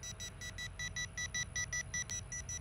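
A FeiyuTech VLOG Pocket 2 handheld gimbal gives a steady series of short, high electronic beeps in an even rhythm over a low background hum, fairly faint.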